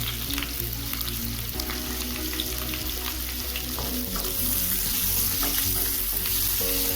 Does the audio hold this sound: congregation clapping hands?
no